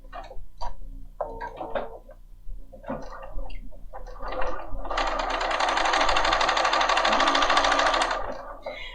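Bernina 570 sewing machine stitching, a few short stuttering bursts of needle action followed by a sustained rapid mechanical whir for about three seconds, close and clear.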